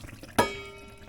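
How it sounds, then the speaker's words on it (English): Boiled squirrel meat drained of its water, one short splashing pour followed by a fading trickle in a quiet kitchen. "Now that the squirrel has boiled for 10 minutes, we're going to drain the squirrel."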